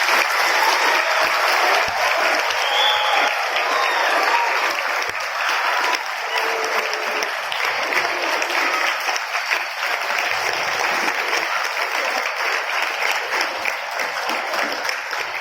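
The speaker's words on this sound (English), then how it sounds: "give a big round of applause" A school audience applauds loudly and steadily after a student debate on population, the clapping dense and sustained for the whole stretch with a slight dip midway.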